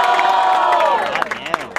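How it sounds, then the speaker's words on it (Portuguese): Rap battle audience cheering and yelling, with scattered claps and whoops as the roar thins out, loud and close. "Diferentemente, barulhos pra Salete"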